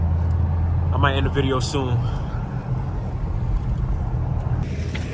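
A Dodge Scat Pack with a loud exhaust cruising at night, a steady low engine drone under someone talking briefly, with wind noise and a rise in hiss near the end.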